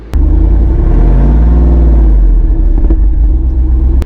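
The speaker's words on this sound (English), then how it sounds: "when it goes kind of up and down the RPMs, it sounds like a lion. It just kind of roars behind you." A Jeep Wrangler 392's deep, loud exhaust rumble swells and eases as the engine revs up and down, close and continuous, roaring like a lion.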